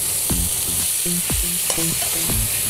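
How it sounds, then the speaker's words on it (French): Raisins macerated in vin jaune from the Jura fry in a pan for pan-seared foie gras, with repeated spoon scrapes and stirring strokes over a steady close sizzle, no talking. "On va poêler ces raisins qui ont été macérés dans le vin du Jura, ce qu'on appelle le vin jaune."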